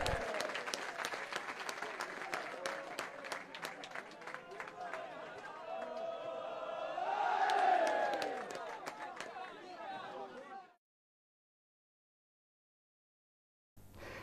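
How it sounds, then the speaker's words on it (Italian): Crowd applause at a Coppa Italia Eccellenza football match between Canicattì and Marina di Ragusa, heard faintly with chatter and voices mixed in, swelling briefly and then stopping abruptly into silence. "Applausi comunque per il Marina di Ragusa."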